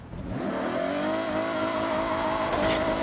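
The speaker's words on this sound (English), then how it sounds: "the engine audio quality has substantially improved. And that is a Mitsubishi Lancer" A 2008 Mitsubishi Lancer GRS engine in Forza Horizon 6, revving up into a loud, sustained steady drone that holds level and close for several seconds, with no talk over it.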